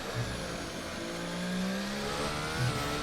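Formula 1 car engine in the F1 24 racing game, Canadian Grand Prix qualifying lap, revving high in eighth gear, a steady buzzing whine that climbs gradually in pitch and stays loud and continuous throughout.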